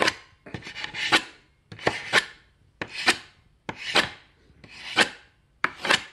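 Six sharp, evenly spaced chopping strikes of a Ganzo 7621CF knife into wood, each a crisp woody thwack with a short scraping tail, close and fairly loud with brief silences between.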